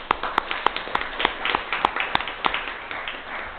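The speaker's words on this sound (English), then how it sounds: "a big round of applause for them" Small gathering at a city council meeting applauding graduating 2020 seniors, with a handful of distinct claps standing out over a thinner, muffled patter of applause.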